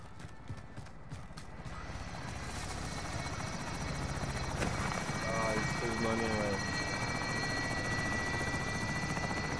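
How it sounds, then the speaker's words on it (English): A helicopter approaches in the video game Call of Duty Warzone, its rotor thrum building steadily louder under a continuous layer of game noise, with players talking over it. "Oh, the chopper coming."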